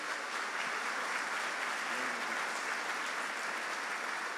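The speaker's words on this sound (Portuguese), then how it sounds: "Você pode aplaudir ao Senhor Jesus." Church congregation applauding during a worship service, a steady wash of clapping at moderate distance, faint and even throughout.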